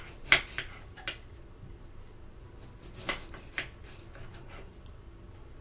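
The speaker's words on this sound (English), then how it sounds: "chop these potatoes up, guys" Kitchen knife slicing potatoes on a cutting board, a few sharp, close clicks and taps spaced irregularly over quiet room tone.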